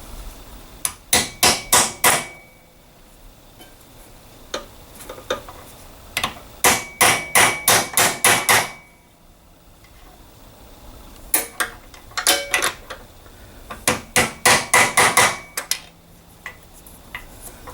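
Steel socket driven with a hammer to seat a seal in a Torqueflite 727 automatic transmission, from a first-gen Cummins, giving loud, close metallic blows in quick bursts of several strikes separated by short pauses.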